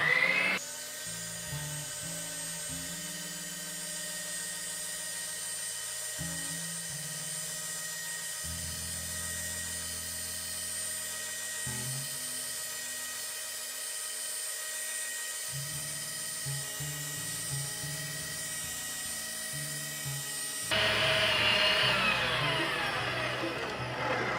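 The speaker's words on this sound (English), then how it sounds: "we'll just take our stuffer and our grinder, which actually comes with a stuffing attachment, and we'll take our bag and place it over and just start feeding product in" A meat grinder fitted with a stuffing attachment fills one-pound bags with deer sausage. It gives a steady close electric motor whine for about twenty seconds, its pitch shifting now and then, with a louder harsher stretch near the end.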